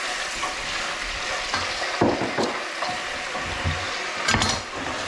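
Tomatoes frying in a pan for tomato chimichurri pasta, a steady close sizzle with a few stirring scrapes and clinks breaking through.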